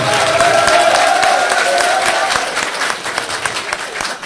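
Loud applause from an audience at an inaugural ceremony for a new party headquarters in Luanda, close, dense clapping with some crowd noise and a brief tone mixed in, gradually thinning.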